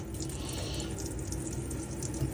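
Water running steadily from the hot side of a motorhome tap, a continuous close hiss and splash that holds evenly throughout without any voices.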